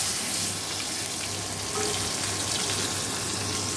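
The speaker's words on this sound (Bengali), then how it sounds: "মাছটা ভেজে নিই" Fish frying in a pan in a home kitchen gives off a dense, continuous sizzle, close and steady, with faint clinks of stirring and no talk.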